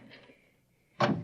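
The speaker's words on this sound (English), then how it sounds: "Now, this door is open." A door opens as a radio drama sound effect: a faint rattle, a brief quiet gap, then one sudden loud heavy thunk that fades over a few tenths of a second, with no voices.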